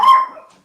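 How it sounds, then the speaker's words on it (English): One sharp, close bark from a household dog during a home podcast recording, ringing briefly and then fading out, with no voices. "sorry for my dogs, they usually take part on my podcast"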